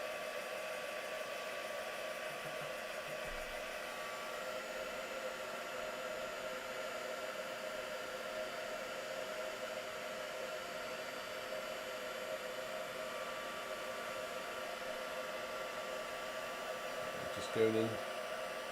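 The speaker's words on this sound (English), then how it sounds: "heat embossing this now" A heat gun blows a steady, even whoosh of hot air for heat embossing a handmade card, running continuously at moderate distance, with a brief voice heard briefly near the start.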